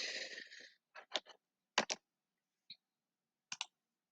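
A computer keyboard is struck in a few sparse, quiet clusters of keystrokes, pairs and single clicks separated by silence, after a short soft rustle at the start.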